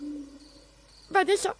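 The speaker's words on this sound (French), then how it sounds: "Il y a le hibou qui ulule" A low, steady owl hoot sounds in a forest at night, faint and drawn out at the start, before a nearby voice cuts in briefly.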